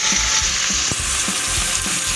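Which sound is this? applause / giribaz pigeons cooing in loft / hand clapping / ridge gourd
ridge gourd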